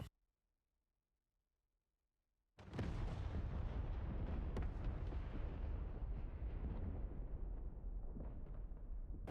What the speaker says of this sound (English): 2 bombs away. And there we go. Both targets hit.